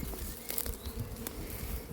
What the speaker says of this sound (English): I'm going to get covered in bees